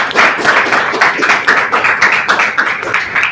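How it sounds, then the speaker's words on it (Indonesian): A class of students clapping their hands together in a classroom, a dense, lively burst of many overlapping claps sustained at an even loudness throughout. "Beri tepuk tangan dulu."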